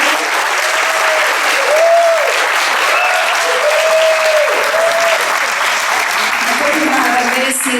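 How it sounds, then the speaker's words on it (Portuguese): Audience at a talk on reverse logistics and e-waste applauds steadily for the whole stretch, a dense, even wash of clapping with a few voices rising over it. "eu quero pedir que as pessoas deem uma salva de palmas para você"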